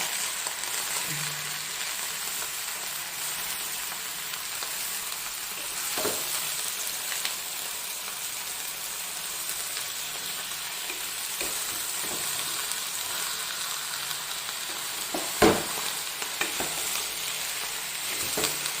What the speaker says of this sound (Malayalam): എടുത്ത് ഒന്ന് ഇളക്കി കൊടുക്കുക.